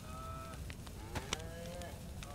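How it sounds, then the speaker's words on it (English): A cow in the survival video game DayZ lows from a distance, a faint drawn-out moo heard twice over steady outdoor ambience, with a couple of sharp clicks between. "I hear a cow."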